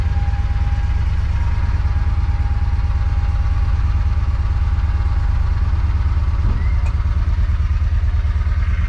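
A John Deere Gator 620i utility vehicle engine idles steadily just after starting, a loud, even low rumble with constant vibration close by and no talking.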